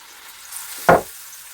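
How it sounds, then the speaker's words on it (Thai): Garlic frying in a pan as Thai chili paste goes in, a quiet steady sizzle with one louder, brief burst of frying midway, no talking. "เดี๋ยวเราจะ เจียวกระเทียมให้หอมนะคะ"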